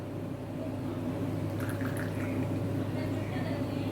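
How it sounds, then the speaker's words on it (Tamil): Sesame oil poured into a hot dry kadai for Pallipalayam country chicken, a soft steady pouring and dribbling over a constant low background hum. "நான் நல்லெண்ணெய் ஊற்றுறேன்"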